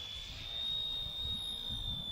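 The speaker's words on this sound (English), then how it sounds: "It's a very lightweight helicopter, a little over 100 grams." A small motor whines at a steady high pitch, a thin continuous buzz of a lightweight RC ERA Bell 206 helicopter, about 100 grams, hovering close by, with faint wind rumble underneath.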